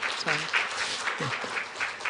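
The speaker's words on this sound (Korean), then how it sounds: "우리 박수 한번 해주세요" Steady applause from a church congregation at a Sunday service fills the space, with a voice briefly heard over the continuous clapping.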